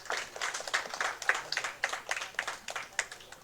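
Audience applause at a formal agreement-signing ceremony, a moderately loud, steady patter of many hands with soft pulses of intensity through the short stretch, no voices over it.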